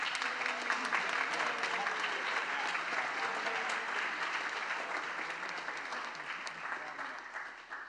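A conference crowd at JuliaCon applauds in a sustained, even roar of clapping that holds strong for several seconds before gradually tapering toward the end, heard at moderate level without talk over it.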